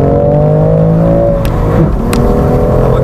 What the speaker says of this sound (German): jetzt möchte ich einfach nur so im zweiten Gang vom Gas gehen, möchte ein bisschen römpel-pömpel